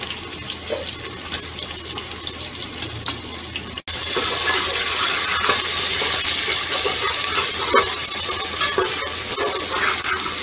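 Chopped garlic and a chopped medium tomato hit the hot pan for a Bengali mutton curry with potatoes, producing a loud, sustained sizzle and watery hiss that jumps up partway through, with stirring clatter and no talk.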